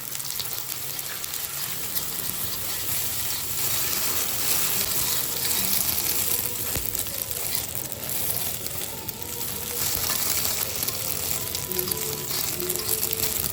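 Cooking oil sizzles steadily in a pan while fried rice is being made, a continuous crackling hiss that stays even and fairly close throughout, with no talking over it.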